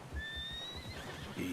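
Horse in the Red Dead Redemption 2 game world letting out a clear rising whinny over soft hoof clip-clop and ambient game sound.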